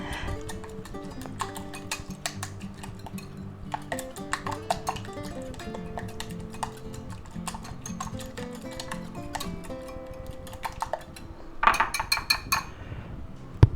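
A utensil clinks and ticks quickly against a bowl as seasonings are beaten into batter for bell pepper cakes, a steady run of light taps over a soft tonal background, with a sharper cluster of clinks near the end.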